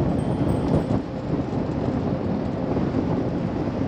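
Cold north wind gusting across Lake Lavon at a park, a steady broadband roar buffeting the microphone without pause for the whole stretch, loud and close, no voices.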